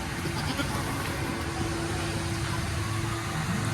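Roughly three-month-old goat kids bleat on a goat farm in Gujranwala, set against a steady, dense background hum.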